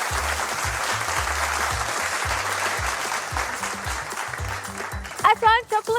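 Audience applause at a live event, a steady dense clapping that carries through most of the stretch before thinning out near the end, where a voice briefly cuts in over it.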